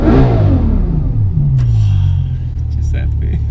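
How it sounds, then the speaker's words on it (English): The W16... rather the V12 engine of a car revs hard up close, a loud deep rumble that rises and falls before settling into a steady growl, with a voice heard briefly over it. "I'll tell you what is smooth, this V12 engine."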